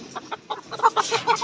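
Healthy layer pullet hens cluck in short, close bursts, a lively run of repeated fowl calls on a poultry farm with no talk.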